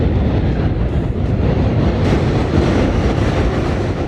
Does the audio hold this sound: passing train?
yes